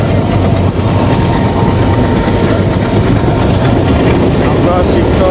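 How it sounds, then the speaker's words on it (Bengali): The Madhumati Express passenger train pulls out of a Bangladeshi station with a steady, loud rolling rumble and wheel clatter that fills the whole stretch. Faint voices sit underneath. "আমাদের ট্রেন এখনই ছেড়ে দেবে।"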